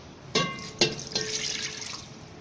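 Water splashes and trickles into a cooking pot in a few short pours while making shami kabab, with a steady liquid rush afterward; no talking.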